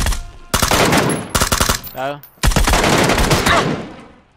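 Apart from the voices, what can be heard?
gunfire from a gun in a shooter video game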